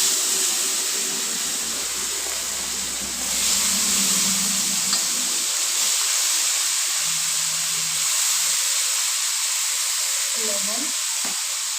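Potatoes frying in oil in a pan, a continuous loud sizzle and hiss with occasional stirring noises, steady throughout and with no talking.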